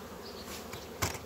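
Honeybees at a colony being fed with essential oils buzz faintly and steadily close by, with a brief sharper bump near the end.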